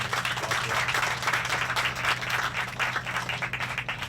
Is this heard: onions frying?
no